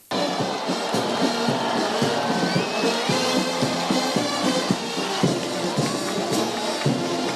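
Crowd at a sporting event where a Nigerian contingent competes, cheering and roaring steadily and loudly for several seconds, a dense wall of many voices with no single speaker standing out.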